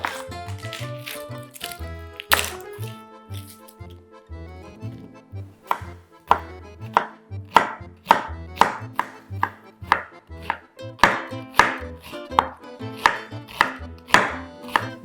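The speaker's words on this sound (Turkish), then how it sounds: "Onun için soğanlarımı doğrayarak başlayayım." Rhythmic knife chopping onions on a cutting board, strikes coming faster and steadier as it goes on, with faint music playing underneath.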